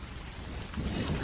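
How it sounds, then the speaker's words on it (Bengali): Steady, dense rainfall hisses continuously, a heavy downpour with a low rumble underneath, no voices. "মাথার ওপর অঝোর বৃষ্টি।"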